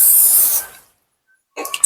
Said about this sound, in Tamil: ஸ்ப்ரே பண்றேன்.